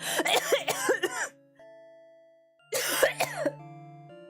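Several harsh coughs in quick succession from a character in thick smoke in a video game, then a pause with a soft tonal chime, followed by another burst of coughing over faint electronic tones.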